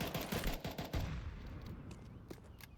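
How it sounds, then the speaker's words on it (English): Gunshots in a Counter-Strike esports match, a quick cluster of sharp cracks up front that thins into scattered distant shots, fairly faint and brief. "great shots from Tumsy. Just whizzing past his head"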